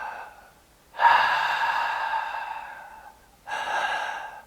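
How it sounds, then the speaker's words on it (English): A person breathing audibly through an open mouth, two long breathy exhales separated by a short quiet pause, close and soft, with no speech. "Make a sound by opening your mouth and breathing."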